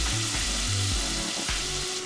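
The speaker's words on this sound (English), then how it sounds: "Toss in about a teaspoonful of minced garlic. Let that saute a little bit." Minced garlic sautés in olive oil in a home kitchen, giving a steady, close, continuous sizzle with a low hum beneath it for the whole stretch.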